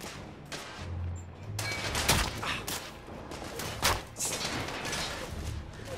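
Repeated gunshots and thuds from the Victorian-era shooter game The Order: 1886, firing in bursts over a continuous noisy backdrop.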